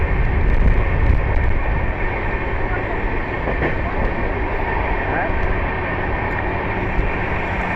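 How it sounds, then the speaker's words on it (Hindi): Swaraj Superfast Express, train number 12471, running from Bandra towards Mata Vaishno Devi Katra, rolls past in a steady, loud broadband rumble that holds for several seconds. "अब जिस ट्रेन की क्रॉसिंग हो गई है वो 12471 train number Swaraj superfast express"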